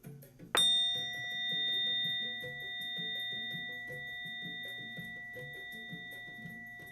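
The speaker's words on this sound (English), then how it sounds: "And by the sound of the bell," A single bright bell strike rings out clearly over soft background music, its clean tone sustaining and slowly fading over several seconds during a spiritual blessing.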